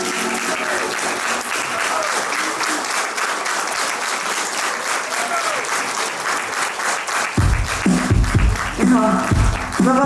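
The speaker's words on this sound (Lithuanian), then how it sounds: "su plojimais." Applause from a concert audience at a live singer's show in Seda, a dense steady clapping throughout, loud and close, growing heavier near the end.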